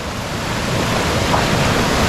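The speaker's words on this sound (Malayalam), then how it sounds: "വെള്ളച്ചാട്ടത്തിൽ ഒച്ച കേൾക്കുന്നുണ്ടോ ശബ്ദം കാരണം സംസാരിക്കാൻ പോലും പറ്റുന്നില്ല" Steady, loud roar of a waterfall in the rainy season, a dense wall of rushing water noise with no pauses.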